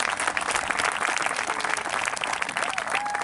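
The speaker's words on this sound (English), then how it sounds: "Let's give our class of 2021 a big round of applause." Loud, continuous applause and crowd noise fill a high school graduation ceremony for the class of 2021 in Peekskill, many hands clapping at once with a faint whistle near the end.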